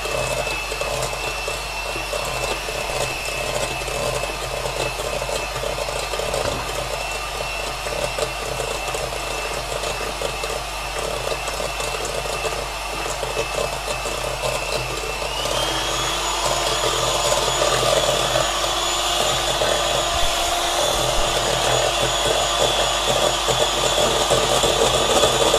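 An electric hand mixer whirs steadily while beating eggs for a chocolate cake batter, a constant motor hum that rises in pitch and grows slightly louder after the midpoint, with no talk.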